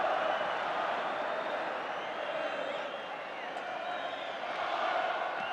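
Large stadium crowd of nearly 47,000 at Old Trafford during a Manchester United v West Ham United FA Cup quarter-final, a steady broad roar with chatter and murmur filling the whole clip without breaks.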